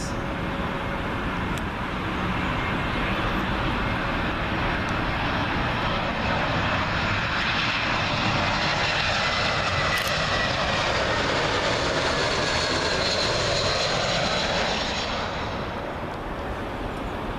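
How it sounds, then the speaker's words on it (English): A British Airways Airbus A320 arriving from Venice comes in to land at Heathrow, its loud, close jet roar and engine whine sweeping overhead continuously before tailing off near the end. "British Airways A320, arriving from Venice."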